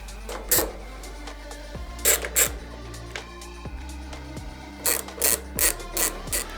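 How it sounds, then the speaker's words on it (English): Close, loud clicking of an 8mm socket ratchet with an extension backing out rear fender bolts on a 2024 CFMOTO 450MT motorcycle, rapid pawl clicks in several short bursts between pauses. "we're going to take our 8mm socket and extension and remove the 4 bolts shown here"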